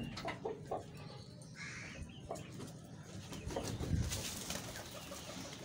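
Chickens clucking and cooing nearby with scattered bird calls and rustling, a busy coop-like mix of sounds.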